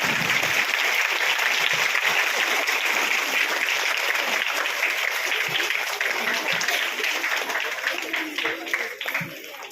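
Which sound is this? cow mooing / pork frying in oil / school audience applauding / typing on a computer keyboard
school audience applauding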